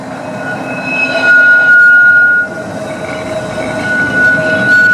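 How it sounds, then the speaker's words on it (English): A Blackpool Century tram runs at night with a loud, close rumble of wheels on rails. High squeals from the wheels come and go, and the clatter swells and eases as it travels, with no voices. "And now to the next tram, which is the awesome Century tram, but this time at night."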